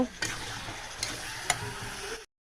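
A pan of food being slowly sautéed and stirred for a long cook, with steady frying sizzle and occasional scraping clicks from the spoon, close and moderate in level, no talking.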